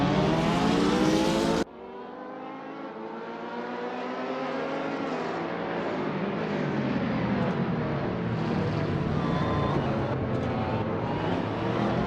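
Race cars in Assetto Corsa, including a Ferrari 458 and a BMW Z4, accelerating together off the line at Spa, a dense, steady engine roar that swells after a brief sharp cut and holds loud throughout.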